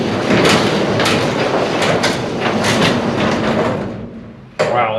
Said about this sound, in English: all the hinges on the door are now lubricated, so let's see how that sounds